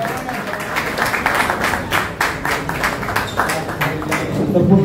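Audience applause at a book launch ceremony in Dombivli: dense, steady clapping from a crowd that holds for the whole stretch and swells slightly near the end, with faint murmuring voices underneath.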